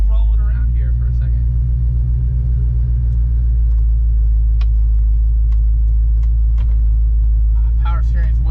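A 1969 Plymouth Fury III rolls slowly in gear, its low steady engine rumble continuous and close throughout, with faint ticks and clicks over it and a voice talking briefly near the end.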